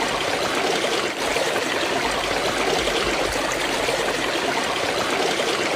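A stream flows through an ancient tree in a forest, water running and trickling in a steady, continuous wash with no pauses, fairly loud and close throughout.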